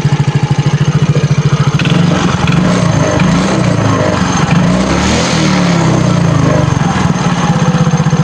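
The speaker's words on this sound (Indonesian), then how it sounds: "ini saya geber motor enak ya" A loud Yamaha Mio Soul GT motorcycle engine runs close up, its pulsing idle swelling into revs in the middle before settling back into a rapid, throbbing beat.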